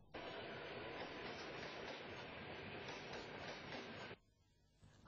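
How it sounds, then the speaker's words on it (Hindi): A train runs steadily along the rails in a loud, continuous rush of rumbling noise for about four seconds, then cuts off abruptly into near silence. "जैसे रेलगाड़ी"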